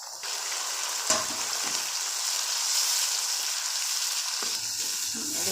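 Garlic-ginger paste, tomato and onion masala for stuffed okra (bharva bhindi) fries in a pan with a steady, close sizzle throughout and a few faint stirring scrapes, with no talking.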